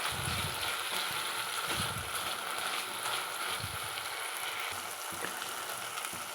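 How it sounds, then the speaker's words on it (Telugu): Potato pieces frying in hot oil give a steady, moderately loud sizzling hiss throughout, with soft low bumps from the pan beneath it. "ఆయిల్ కాగిన తర్వాత పొటాటో ముక్కలు దీనిలో వేసేస్తున్నాను"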